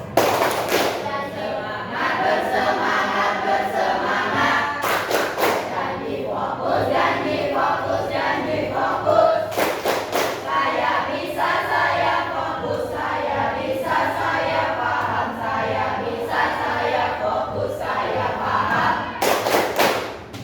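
Classroom students clapping together in a rhythmic unison pattern, sharp bursts of claps repeating in groups over a steady murmur of young voices and room noise.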